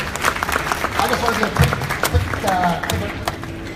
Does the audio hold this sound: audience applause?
yes